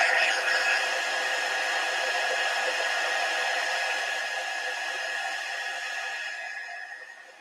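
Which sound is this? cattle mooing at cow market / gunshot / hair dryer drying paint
hair dryer drying paint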